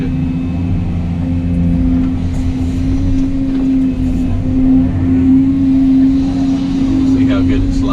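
Pickup truck engine revving hard with a loud, steady drone as the truck spins around while pushing slick clay mud up a hill at a pond dredging and borrow pit site, the roar swelling slightly midway.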